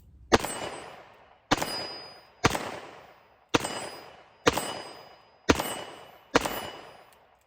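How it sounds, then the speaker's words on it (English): Seven evenly spaced, loud shots from a Smith & Wesson 686 .357 Magnum revolver with a 4-inch barrel, firing .38 Special rounds, each a sharp crack with a brief ringing tail, about one per second. "we're just gonna shoot and have a little bit of fun and relieve some stress today with a nice revolver"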